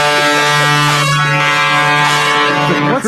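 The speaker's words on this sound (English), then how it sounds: "What's that guy beeping at?" A loud, sustained vehicle horn blares steadily for about three seconds, close and continuous, cutting off abruptly at the end.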